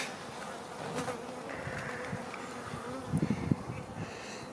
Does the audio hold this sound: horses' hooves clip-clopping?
no